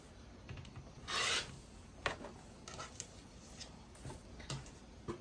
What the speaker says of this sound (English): I'm going to cut it this way so I can save some 5 inch blocks.